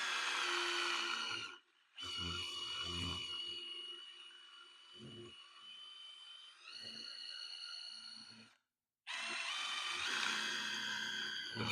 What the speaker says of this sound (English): let's drill our hole